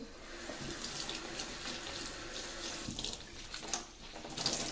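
A water tap runs steadily into a sink to wet a cleaning cloth, a continuous close splashing hiss with no talking.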